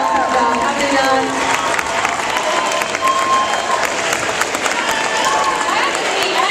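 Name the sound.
school assembly audience applause for the girls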